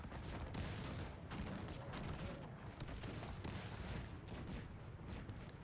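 Dense battlefield gunfire in a Napoleonic-era France versus Austria battle video game, with rapid overlapping musket volleys and cannon bombardment cracking continuously, loud and close throughout.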